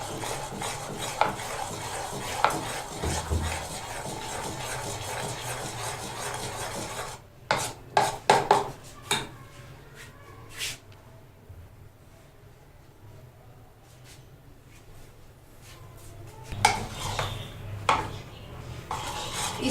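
Oil is beaten into cake batter in a bowl, a steady rubbing, scraping whisk against the bowl that pauses into near quiet with scattered clinks before resuming.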